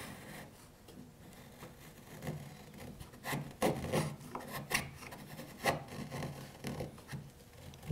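A sharp chisel paring pine wood back to a scribed line, a series of close, irregular rasping and shaving strokes, some louder scrapes in the middle, with no talking over them.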